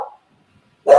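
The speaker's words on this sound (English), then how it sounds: "it's a dog. That is a dog." A dog gives a single sharp bark near the end of a short, otherwise quiet moment, preceded by the tail of a brief earlier bark or sound.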